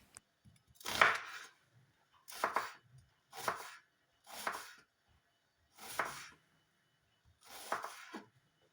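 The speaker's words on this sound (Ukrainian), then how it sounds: "Також нарізаю тонкими напівкільцями одну середню цибулину." A medium onion is sliced into thin half-rings with a knife, six separate crisp cutting strokes spaced about a second apart, close and quiet with silence between cuts.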